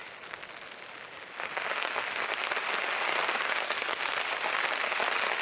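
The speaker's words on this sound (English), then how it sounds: "We're in a very serious rainstorm right now." Heavy rain pours down in woodland, a dense, steady hiss of drops on leaves and ground that grows louder after the first second and a half, then holds constant.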